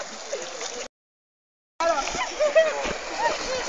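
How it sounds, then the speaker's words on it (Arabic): Mineral spring water gushing up in a natural jacuzzi pool in Armenia: loud, continuous splashing and churning close by, broken by a brief gap of silence, then resuming strongly. "هذا اقوى دفع، اقوى دفع للماء."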